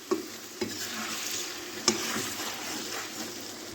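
Chicken karahi with tomatoes is stirred in a pan. A soft, steady frying hiss runs throughout, broken by a few sharp knocks of the spoon against the metal.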